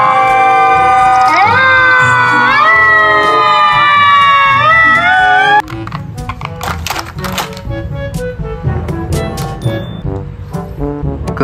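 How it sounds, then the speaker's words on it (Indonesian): A toy fire truck blares a loud, close electronic siren of rising, stepped tones for several seconds, then switches abruptly to a clattering, busy jingle of rapid beeps and rattles. "Mobil pemadam kebakaran."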